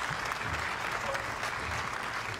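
Tennis crowd applause at an outdoor match between two Australian players, a dense steady clapping that carries on for a couple of seconds, moderately loud with faint voices underneath.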